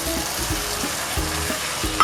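Tomato puree being stirred into a frying masala for prawn curry, a steady sizzle with repeated scraping strokes of a spoon roughly every third of a second.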